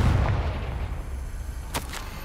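The Confringo spell explodes in the video game Hogwarts Legacy with a heavy low boom that rumbles and fades, followed by a couple of short sharp bursts, loud and close.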